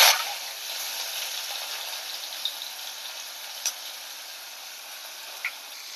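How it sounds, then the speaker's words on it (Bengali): Finely chopped onions fry in hot oil with cumin, bay leaf and dried chilli, a steady close sizzle hissing throughout with a few faint clicks, no voices. "পেঁয়াজটা একদম কুচি কুচি করে কেটে নিয়েছি, এটা একটু লাল লাল করে ভেজে নেব।"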